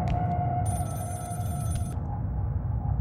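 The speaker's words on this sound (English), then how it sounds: "It sounds like a home phone, so should it be like on a counter or something" A home telephone rings in Scream: The Game, an electronic trilling ring heard in bursts over low rumbling game ambience, moderately loud and close.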